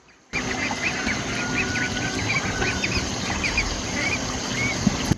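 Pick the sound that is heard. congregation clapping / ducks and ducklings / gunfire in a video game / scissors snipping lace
ducks and ducklings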